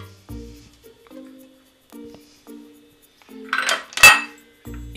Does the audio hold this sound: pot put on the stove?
yes